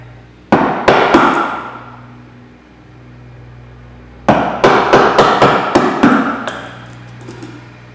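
A mallet striking a chisel to cut a rebate joint across the end grain of timber, loud close knocks in two bursts, two or three blows, then a pause, then a quicker run of six or seven.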